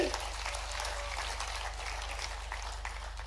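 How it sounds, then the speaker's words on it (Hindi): An audience at a regional tourism conclave breaks into applause, a steady broad crackle of many hands that holds at a fairly even level over a low constant hum, with no talking heard. "एक बार जोरदार ताली बजा करके"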